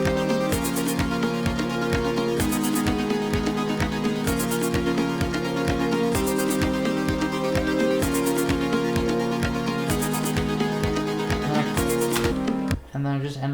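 An electronic track plays its ending beat, a loud repeating pattern of punchy kicks, bright hi-hat bursts and layered synth tones looping steadily before cutting off at the end.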